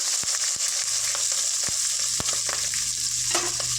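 Three medium onions and four green chillies fry with cumin in a pan, a steady close sizzle broken by sharp, regular taps of a stirring spoon.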